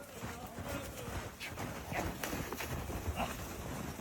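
Hooves of a horse clip-clopping on the ground at a traditional Kyrgyz horseback game where the horse picks up the goat carcass, steady uneven steps with people talking in the background.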